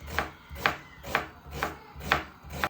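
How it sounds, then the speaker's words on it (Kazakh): A knife chops onion on a board in six evenly spaced, crisp close thuds, about two per second, with no talking. "Бұны да мынадай көбейтіп турап аламыз"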